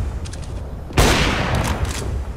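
Counter-Strike: Global Offensive gunfire erupts in a loud, close burst of rapid automatic shots, with softer scattered shots before it and a rattling tail after.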